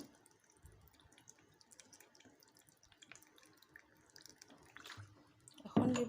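Water poured from a tap into a cooking pot for boiling soybeans, a soft, steady trickle with small splashes, rising to a louder gush near the end.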